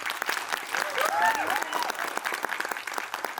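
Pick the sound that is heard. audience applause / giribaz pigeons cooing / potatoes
audience applause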